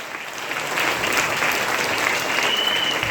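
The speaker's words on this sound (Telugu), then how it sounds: "గ్రేట్ లీడర్స్ అందరూ కూడా బిగ్ క్లాప్స్ ఇవ్వండి" Steady applause from a crowd, many hands clapping together in a dense, continuous wash that holds for a few seconds.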